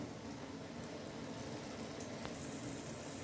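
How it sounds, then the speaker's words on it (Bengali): Water coming to a boil in a pot on the stove for rice, a faint, steady bubbling hiss that holds evenly throughout with no voices. "তো ভাতটার জলটা ফুটে গেছে।"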